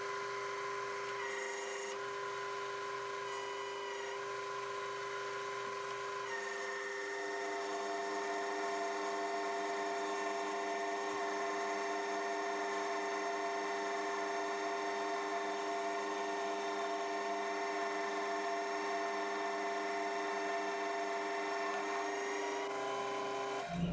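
A machine tool steadily cuts a custom collet at a 2mm depth of cut, giving a continuous whining tone with sustained harmonics that swells slightly after a few seconds and holds unbroken, with no talking.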